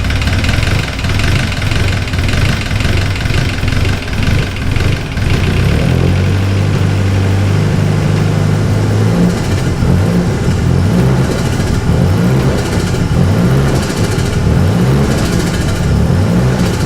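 Nissan Silvia S15 engine on its first start after rebuilding and rewiring, a loud, close, steady idle with a few rises in revs and settling back, no talk over it.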